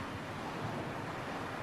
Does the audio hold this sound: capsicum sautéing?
no